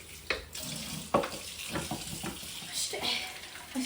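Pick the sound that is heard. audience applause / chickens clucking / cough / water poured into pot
water poured into pot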